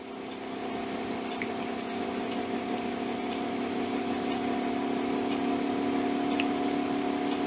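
An electro-magnetic pulse motor runs at around 300 RPM with a steady whirring hum and faint ticks, growing slightly louder over the stretch.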